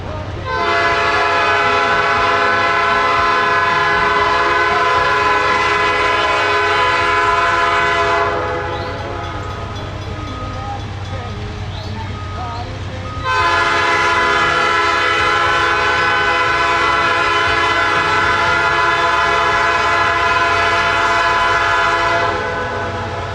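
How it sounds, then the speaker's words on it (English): A coal train rolls eastbound out of Asheville on a grade, its horn blaring in long sustained blasts with a gap in the middle, over the steady loud rumble and clatter of railcars close by. "train is finally rolling eastbound and out of Asheville"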